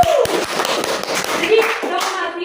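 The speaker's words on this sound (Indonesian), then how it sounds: "Jadi mari kita tepuk tangan bersama kita." A class of schoolchildren claps hands together in a busy, uneven burst of many hands, close and loud, with voices mixed in.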